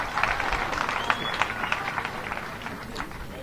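The audience at a South African Communist Party commemoration of Joe Slovo applauds, with quick, scattered clapping and some crowd noise, fairly faint and fading slightly toward the end.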